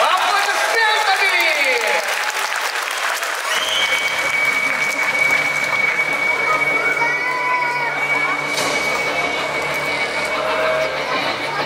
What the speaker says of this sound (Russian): Давайте поаплодируем ей бурными аплодисментами!